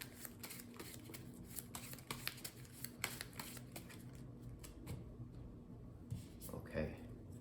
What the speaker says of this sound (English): let's shuffle up the discard pile here